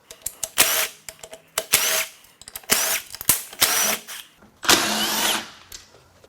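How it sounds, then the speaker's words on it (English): A power tool zips bolts out of a failed Subaru TR580 CVT during a teardown, in a series of short, sharp whirring bursts separated by brief pauses and clinks. "Let's keep zipping some bolts out"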